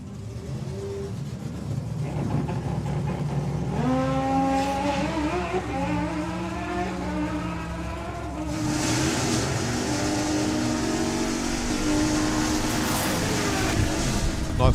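Drag racing at the Sportsman Nationals, a dragster running alongside a stick shift Mustang: loud engines accelerate down the strip with rising, stepping pitch from gear changes, a continuous roar under crowd and announcer noise.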